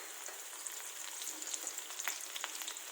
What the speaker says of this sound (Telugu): ఆయిల్ వేడెక్కిపోయింది. సన్నగా తరుక్కున్న 2 పచ్చిమిరపకాయలు,